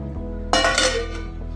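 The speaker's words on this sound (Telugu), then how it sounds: "కలిపి మూతేద్దాం." Biryani being mixed in a cooking pot and the lid set on, a clear metallic clatter and clink of the lid against the pot rim in one burst, close and fairly loud over a steady low hum.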